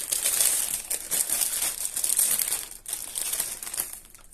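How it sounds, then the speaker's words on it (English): Crinkling wrapper handled close up, a continuous bright rustle of crackles and crunches that fluctuates in loudness for several seconds. "I apologise for crinkling."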